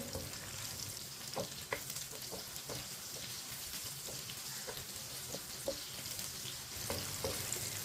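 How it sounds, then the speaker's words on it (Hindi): Green chilies frying in a pan for bhindi fry, a steady close sizzle with intermittent scraping taps of a spoon stirring, no voices. "सब्ज मिर्च को 1 मिनट के लिए पका लेंगे"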